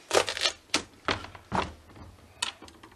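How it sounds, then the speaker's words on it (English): A knife chops through a tough spaghetti squash, cutting it in half: a series of sharp, close thunks and cracks with brief pauses between strokes, loud and alone. "And we cut it in half."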